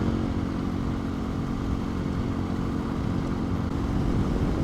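Motorcycle ridden along back streets near the Paluma Range, its engine a steady, close, continuous drone with road and wind rumble and no talking.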